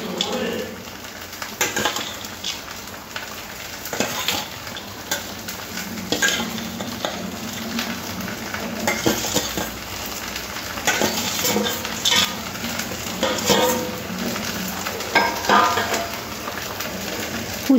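Mixed vegetables with fried bitter gourd and eggplant for shukto are stirred in a pan, giving continuous scraping and sizzling with intermittent utensil clinks, steady and close throughout.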